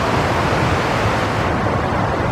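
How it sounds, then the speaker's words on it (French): A small waterfall in the Pyrenees mountains, a steady broadband rush of falling water, loud and unbroken throughout with no voices. "une petite cascade là-bas."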